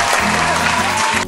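A short burst of dense applause plays loudly and cuts off abruptly, like an inserted sound effect.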